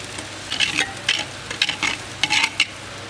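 Garlic and onions sizzle and spatter in a hot pot, with bursts of frying hiss as they are stirred every half second or so.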